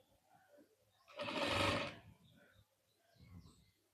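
A sewing machine runs one short, moderately loud burst of stitching, sewing frills onto a Punjabi pyjama, framed by quieter room noise before and after.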